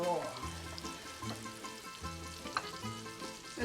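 Greek keftedes meatballs frying in a pan, a steady close sizzle with crackles running throughout, mixed with clinks and some background sound.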